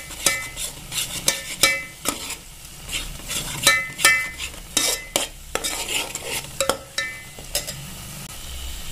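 A spoon scrapes and clatters in a pan while spices such as red chili powder and turmeric are stirred into green sorrel leaves, irregular close metallic knocks over a faint sizzle.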